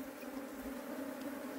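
A honeybee swarm hums in a steady, dense drone while the bees are tipped into a hive box, the buzzing constant and close with no voices over it.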